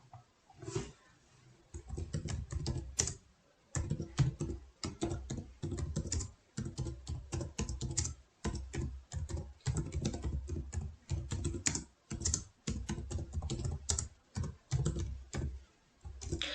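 Rapid typing on a computer keyboard, close and clear, with bursts of clicking keystrokes broken by short pauses throughout.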